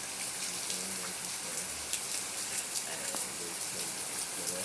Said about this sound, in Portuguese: Aí a chuva é boa